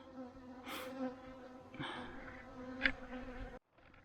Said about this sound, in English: those bees for about the last half hour have been lighting me up right through my bee suit. They're mean.